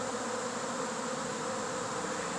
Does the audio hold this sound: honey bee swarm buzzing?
yes